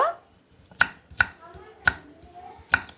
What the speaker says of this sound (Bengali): পেঁয়াজটা দেখুন এইভাবে আমি একটু বড় বড় করে কেটে নেব